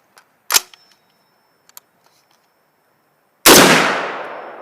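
An Adams Arms small-frame .308 piston-driven rifle firing a Chinese copper-washed round gives one loud close gunshot that rings out and decays, following a few small clicks and handling sounds.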